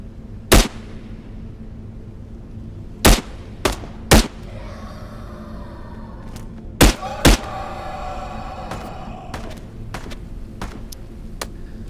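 Pistol fire in the VR shooter Into the Radius 2, single sharp shots spaced irregularly, some in quick pairs, over a low steady ambient hum, with faint clattering between shots.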